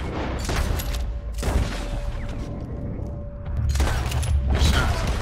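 Gunfire in Red Dead Redemption 2: a loud burst of rapid shots, a lull with a steady mechanical hum, then another loud volley late in the stretch.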